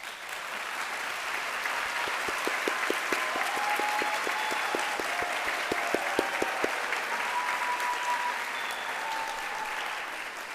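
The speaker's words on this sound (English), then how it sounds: "give them a round of applause" A crowd at a high school graduation applauds steadily and loudly for about ten seconds, dense clapping with a few sharper claps standing out, plus some faint cheering.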